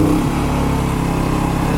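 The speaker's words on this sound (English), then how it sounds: "once it kicks in, we'll be able to hear the RPM up" A Champion 6500W inverter generator running at raised RPM gives a loud, steady, close engine drone with a slight pulsing flutter and no talking.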